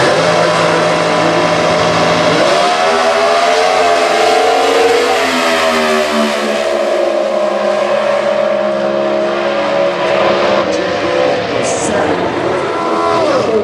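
Comp eliminations drag race cars, including a C-altered automatic, launch and roar at a drag strip, with a loud sustained engine drone rising in pitch under an announcer's fast commentary.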